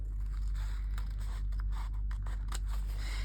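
Scissors snip around a piece of paper for a junk journal hanky pocket: a quick run of crisp, close cutting strokes over a steady low background hum.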